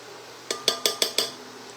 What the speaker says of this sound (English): So I'm going to stir in the flour, and I'm going to whisk it.